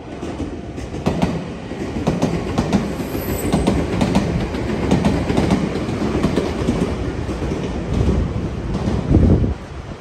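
An express train rumbles past close by in Sakai, Japan, with rhythmic clattering wheels and steady wind buffeting, continuous and fairly loud throughout.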